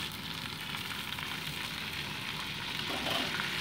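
Fish sizzling in hot mustard oil in a wok: a steady, dense crackle and hiss of frying that holds close and even throughout, with no voices.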